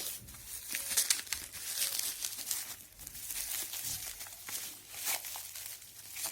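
A plastic bag is crinkled and rustled as it is pulled off a remote-controlled toy jeep, with continuous close, uneven crackling bursts lasting several seconds.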